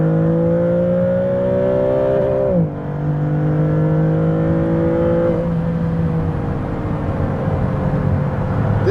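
A Maserati MC20 sports car on a road gives a loud, steady engine drone heard from inside, with one brief dip and shift in pitch as it keeps accelerating, no voices over it.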